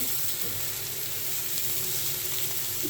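Potatoes frying in a pan, a steady dense sizzle and crackle throughout, close and even, with no voices.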